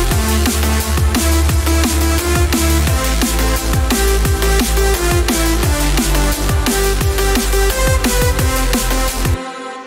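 Loud electronic dance drop with a synth lead, arpeggio, sustained pads and a looped atmospheric vocal over pounding kick and bass, dense and continuous before cutting off abruptly at the end.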